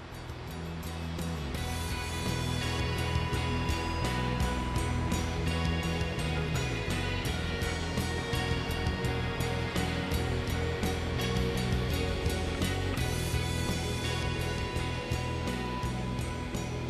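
Huddig 1260 backhoe loader with hydrostatic transmission working while laying cable, a steady loud engine drone with a constant mechanical hum and whine, close by and continuous throughout, with no talk.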